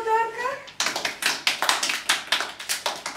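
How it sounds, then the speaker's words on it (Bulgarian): At a kindergarten concert by a rhythm and sound music school, a small audience gives a child performer a short round of scattered clapping, close and lively, after a brief spoken line. "Аплодисменти за Теодорка"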